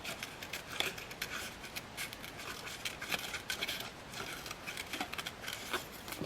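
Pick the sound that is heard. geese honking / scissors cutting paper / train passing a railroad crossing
scissors cutting paper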